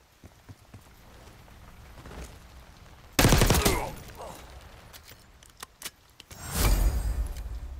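Gunfire during a combat dive drill in Call of Duty Black Ops 6 multiplayer training, two loud bursts of shots breaking through a quieter stretch with scattered faint clicks and footsteps.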